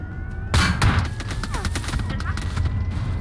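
Gunfire in PUBG Mobile: a burst of shots starts sharply after half a second, then repeated cracks continue at a steady pace through the rest of the clip over game background noise, close and fairly loud.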